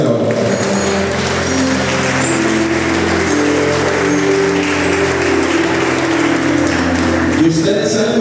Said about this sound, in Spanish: Denle un fuerte aplauso al Señor en esta hora.